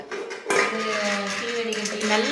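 A small metal pot meant for boiling milk clanks and rattles as it is picked up and handled, close and clattery, with a voice talking over it.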